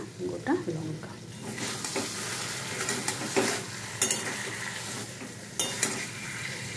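Stirring potol posto, a pointed gourd and poppy seed dish with mustard oil and whole chillies, in a pan on the stove: a steady sizzle with soft scraping strokes and occasional clinks of a spoon against the pan.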